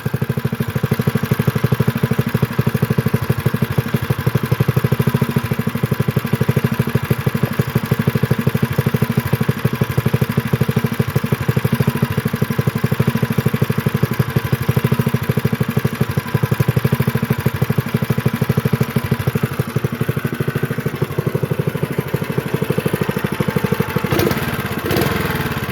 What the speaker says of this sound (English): this engine sounds awful though. It ticks, it's got a really loud tick